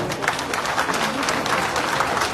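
Audience at a political party meeting in Nellore clapping to welcome new members, dense sustained applause from a crowd close by.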